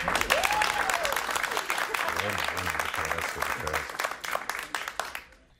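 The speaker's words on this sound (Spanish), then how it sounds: "muchas gracias por esa ovación atronadora que me ha erizado la piel" A television studio audience gives a loud, dense ovation of clapping with cheers and whistles, while someone speaks over it; the applause thins and fades away at the end.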